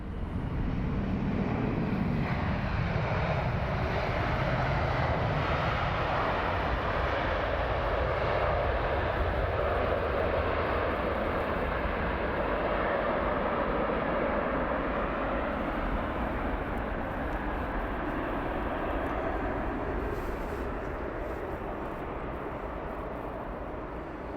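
A Delta Airlines airliner at London Heathrow Airport gives a loud, steady jet roar that holds at near-constant strength throughout and fades only slightly toward the end, with no voices heard.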